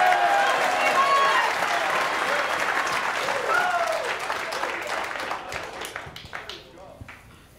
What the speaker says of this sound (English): Clap those hands and shout one more time under the Most High God